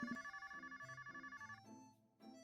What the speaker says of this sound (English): At that moment, his phone starts ringing.